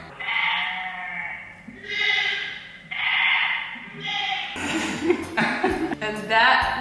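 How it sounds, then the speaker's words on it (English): Sheep bleating played back by Google Assistant on a smart speaker indoors, several drawn-out wavering bleats in sequence, then voices laughing and chattering over more bleats near the end. "What does the sheep sound like?"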